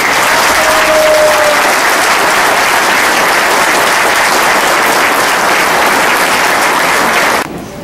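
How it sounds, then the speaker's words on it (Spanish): A large crowd at a civic event in Gustavo Madero, Mexico City, gives loud, sustained applause, dense and even throughout before cutting off abruptly at the end. "Y les quiero pedir un aplauso para todos."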